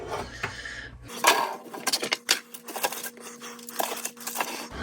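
Tin foil is torn and crinkled while covering beef ribs for cooking, giving a run of close, bright rustling and snapping bursts with a steady low hum underneath.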